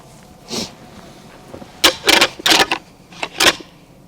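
Antlers rattled together to decoy a buck during a deer hunt, heard as several sharp clacking bursts in quick clusters, fairly close and loud over a quiet outdoor background.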